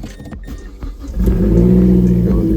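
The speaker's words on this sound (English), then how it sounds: "There you go. There's the sound of the car." A Mazdaspeed 3's engine idles at a low hum, then swells abruptly into a loud, sustained rev that holds steady and close for the rest of the moment.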